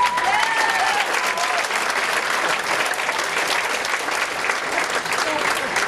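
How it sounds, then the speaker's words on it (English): A crowd at an outdoor Liberal Party campaign event in Trinity–Spadina, Toronto, gives volunteers a loud, sustained round of applause, dense clapping running throughout with faint crowd murmur beneath. "please give them a round of applause"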